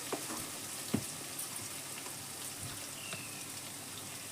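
Paneer curry frying in oil in a pan, with a steady, soft crackling sizzle and a few sharper pops close by, no talking over it.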